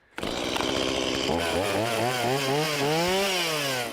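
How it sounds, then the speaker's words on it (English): A chainsaw runs continuously and loudly up close, its engine pitch rising and falling as it revs while cutting. "So this is the area where we're a gonna go ahead and chainsaw."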